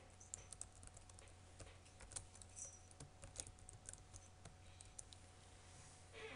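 Quiet, fast typing on a computer keyboard as a program name is entered, a steady stream of light key clicks with a few louder taps, heard alone without speech.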